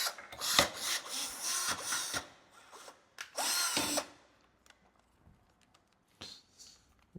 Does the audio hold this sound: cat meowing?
no